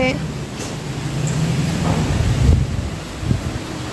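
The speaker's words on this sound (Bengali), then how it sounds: "ঝড় উঠছে" Gusty wind from a rising dust storm roars against the microphone and swells in waves, with a person speaking under it.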